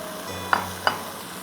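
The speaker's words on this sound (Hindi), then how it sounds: "अब इसमें हम डालेंगे पालक 250 ग्राम्स फाइनली चॉप्ड वॉश्ड" 250 grams of washed, finely chopped spinach goes into a hot pan for a mixed vegetable sabzi, a steady low sizzle broken by two quick scraping stirs, close and without talk.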